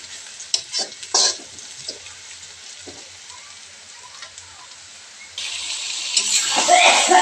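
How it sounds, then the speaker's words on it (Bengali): Liver and brain frying together in a pan for a spiced bhuna, with soft sizzling and bursts of stirring scrapes that swell into louder, brighter frying near the end; no one speaks. "কলিজা মগজ সব একসঙ্গে দিয়ে দিলাম।"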